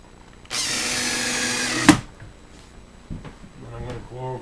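A power drill drives a screw into a kitchen assembly in one steady whir of about a second and a half, ending with a sharp knock, followed by softer handling clunks and brief talk.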